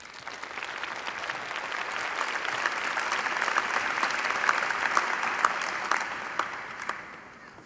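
Graduates of the Department of Earth Science and Engineering at an Imperial College engineering graduation receive a sustained round of applause from a large audience, swelling gradually and then fading at the end.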